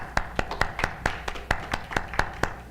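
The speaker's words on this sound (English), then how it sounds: "Everybody clap for Hope." Steady rhythmic hand clapping from a small group at a church service, about a dozen sharp claps in even succession, moderately close.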